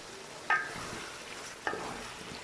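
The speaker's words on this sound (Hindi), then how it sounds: "पहले हम आलू जो है वो अच्छी तरह इसमें भूनेंगे" Potatoes fry in a pan for dhaba-style aloo matar, a soft, steady sizzle beneath two sharp scraping stirs about a second apart, fairly quiet and close.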